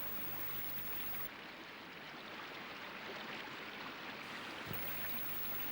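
Steady broadband rushing of the holy Ganga river flowing, a continuous even wash of water heard alone with no voices, briefly dipping in the middle before returning.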